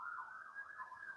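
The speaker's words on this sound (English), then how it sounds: "I hear them sirens" Sirens outside wail with a steady rising and falling pitch, moderately loud and continuous, with no voices over them.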